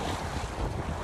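Wind of about ten knots buffets a sailboat at sea, a loud, steady rush of gusting air and microphone wind noise over the wash of water, with no talk.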